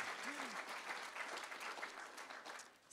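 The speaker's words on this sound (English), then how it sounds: "Give them both of them a big, huge clap." A church congregation claps steadily for two new interns, a dense, even wash of many hands held at a consistent level throughout, with a brief voice sounding early on.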